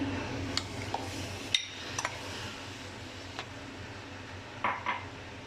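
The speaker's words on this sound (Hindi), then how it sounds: "अब मैंने एक पैन ले ली है और जो मैंने पालक उबाल के पीसी थी वो इसमें डालूंगी" Boiled, ground spinach going into a pan for aloo palak: a few scattered metallic clinks and taps of a utensil against the pan over a quiet background, close by.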